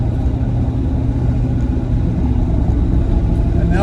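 A Land Rover Discovery II with a bad motor, run in sport mode and accelerating through the gears, gives a loud, steady engine rumble from inside the cabin.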